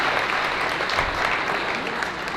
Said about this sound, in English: With claps and excitement, one more applause